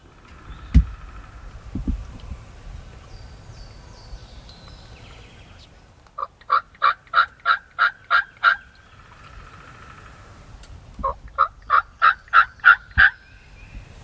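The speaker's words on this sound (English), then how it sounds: "a giant gobbler come running right down the lane from the same exact spot" A wild turkey gobbler in Indiana woods gobbles twice, each a loud rapid rattling burst of about eight pulses, separated by several seconds of quiet outdoor ambience.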